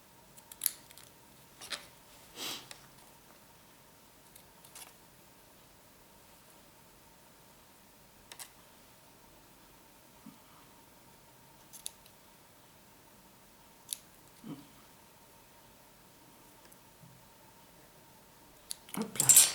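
Scissors cutting paper for a fan card, a series of faint, sparse, crisp snips scattered across a quiet background, with a louder rustling burst at the end.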